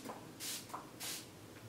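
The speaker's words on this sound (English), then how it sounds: "So I'm just going to spray this on really quick" Makeup setting spray is misted onto a face in two short, soft hissing bursts, close up and quiet, with faint handling sounds between them.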